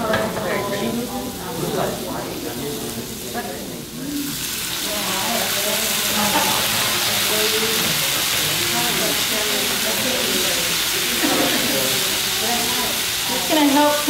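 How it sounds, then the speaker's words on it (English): Vegetables with garlic stir-fried and steamed in a pan give a steady, loud sizzle with stirring scrapes, and voices talk over the first few seconds. "It's going to help continue by way of stir frying and steaming the vegetables"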